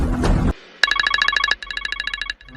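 A telephone rings in bursts of bright electronic trills, loud and close, after a brief noisy moment at the start, with short gaps between rings and no voices.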